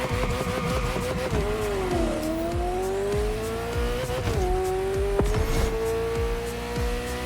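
Meta Grand Race car in The Crew Motorfest, driven with H shifter and clutch, revs hard and loud through the gears, its engine note climbing, dipping at each shift and climbing again, with a brief tire squeal partway through.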